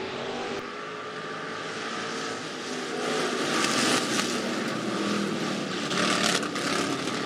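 Hobby stock race cars at a dirt speedway pulling away on the green flag to start a heat race, a dense, loud roar of several engines building as the field accelerates, no talk.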